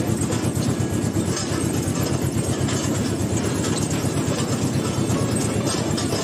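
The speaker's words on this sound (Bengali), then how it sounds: "ট্রেন আস্তে আস্তে এগিয়ে চলছে জঙ্গলের মাঝ দিয়ে।" A toy train rolls slowly through wooded grounds at Dheusagar Park in Digha, giving a loud, steady rumble with a rapid rhythmic clatter of wheels throughout.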